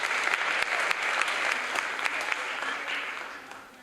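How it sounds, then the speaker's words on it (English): An audience at an awards session applauds warmly, a dense, sustained patter of clapping that gradually fades toward the end. "Give yourselves a great round of applause"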